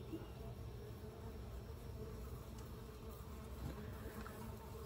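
Honey bees buzz steadily around a hive box during feeding, a continuous soft drone with individual bees passing now and then.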